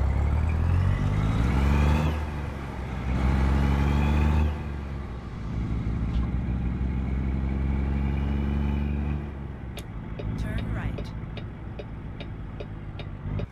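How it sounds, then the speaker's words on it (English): Loud motorcycles pass in traffic in the American Truck Simulator game, heard from a truck cab with the windows down: strong rising engine roars that sweep up and fade, followed by a steady drone and a ticking turn signal. "It has the motorcycles. They're really good, but they're super loud, especially when you have the windows down in your truck."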